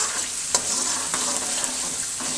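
Two or three cloves and star anise frying in oil in an iron karahi, a bright, constant sizzle close by with a few light stirring clicks.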